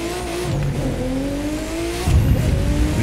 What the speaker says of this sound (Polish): Jedziemy się nim przejechać, zobaczyć. To jest samochód torowy.